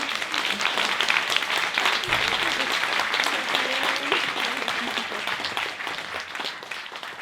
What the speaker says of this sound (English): So if you could please give a warm round of applause for Jackie Kay.